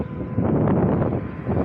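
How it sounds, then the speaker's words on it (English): Steady wind from Hurricane Ian's outer bands buffeting a microphone, a low rumbling roar that holds constant for a couple of seconds. "Definitely some wind."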